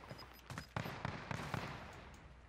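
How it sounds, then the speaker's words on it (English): In the Call of Duty Modern Warfare video game, an enemy player's gunfire pops in several quick, sharp bursts. It is faint and distant beneath a low background rumble. "Oh, he's shooting at me."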